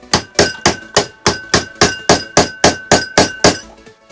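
Pliers used as a makeshift hammer strike repeatedly, about a dozen sharp, ringing metallic blows in a steady rhythm, loud and close with no talk.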